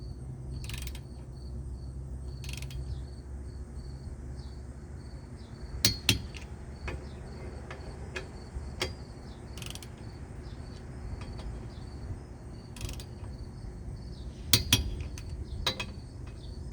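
Occasional metallic clicks and clanks from tightening wheel lug nuts with a ratchet during a tire rotation, scattered sharp hits over a steady low background hum, with no one speaking.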